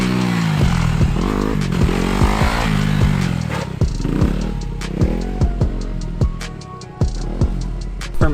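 A Honda CRF250 dirt bike revs hard for a wheelie, its engine rising and falling in repeated throttle bursts, loud and close, with clutch pops and clattering mechanical ticks.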